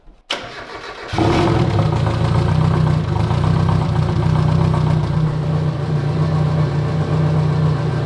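A car fitted with a new fuel cell and pump in the back cranks briefly, then fires and settles into a loud, steady idle that runs on alone with no talk.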